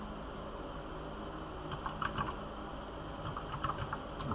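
Computer keyboard keys click in two short, quiet bursts of typing over a steady low hum, the first burst starting partway through and the second following after a brief pause.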